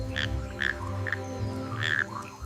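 Frogs call at night in the humid Borneo rainforest, with several distinct croaking notes repeating at irregular intervals over a steady, dense background chorus, moderately close and clear.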